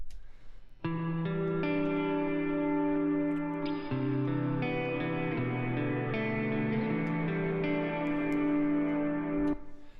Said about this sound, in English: I've got this reverb that just gives it a tiny bit of stereo.